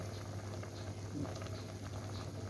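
A pot of pork bone and bok choy curry simmers at a soft, continuous bubble, faint and close, with no voices over it.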